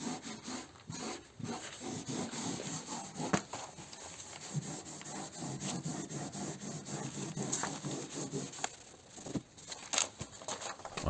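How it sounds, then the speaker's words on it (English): Rhythmic scratchy rubbing of 800 grit sandpaper and a fine abrasive pad over painted areas of a rusty car door, close and fairly quiet, the strokes repeating in uneven bursts with no talking. "I'm sanding the proper paint areas with the 800 grit paper and fine bearatongue for the final result"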